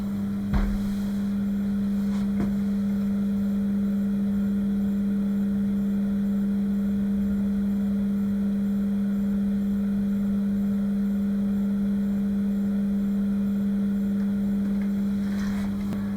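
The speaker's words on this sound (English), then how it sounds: "So this fan, even though it's connected to the long duct, it pulls 21 liters a second." An extract fan connected to a long duct runs with a steady low hum and a constant whirr, unchanging and close, with a couple of brief clicks near the start.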